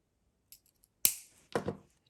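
Jewelry wire end snipped with cutters while shaping a Halloween bat necklace: a faint tick, then two crisp close cuts in quiet.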